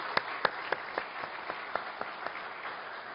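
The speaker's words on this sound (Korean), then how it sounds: "우리 이 시간 빛으로 오신 우리 그 주님께 박수로 모두 다 영광 돌리겠습니다." A church congregation at a Christmas service claps together in a soft, evenly spaced rhythm, the beats fading slightly as they go on.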